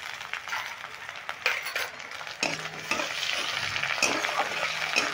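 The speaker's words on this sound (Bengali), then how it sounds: "টমেটোটাও আমি পেঁয়াজের সঙ্গে একটু ভেজে নেব।" Tomato fries with onions in a pan, a soft crackling sizzle broken by scraping and clinks as a utensil stirs the mixture.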